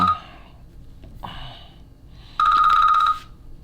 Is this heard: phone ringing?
yes